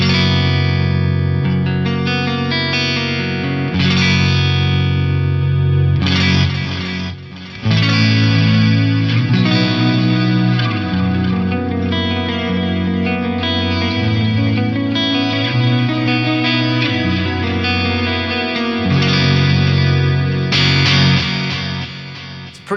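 An electric guitar runs through a Free the Tone Future Factory stereo delay pedal on a factory preset, with loud sustained chords and notes carried by lush repeating echoes and chorus-like shimmer that blend into a continuous wash.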